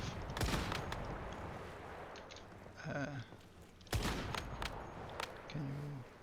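Gunshots from a weapon fired at a training dummy in the video game Once Human: two sharp reports about three seconds apart, with lighter clicks and thuds between them.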